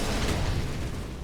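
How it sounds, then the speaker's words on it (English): A flashbang grenade detonates in the video game CS:GO, a loud, dense broadband burst that fills the whole short moment with no clear decay, no voices over it. "Deploying flashbang."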